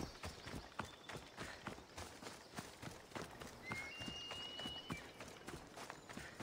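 Horse hooves clip-clopping at a quick, even gait in Assassin's Creed Odyssey, close and continuous, with light game ambience and a brief whistle-like tone partway through.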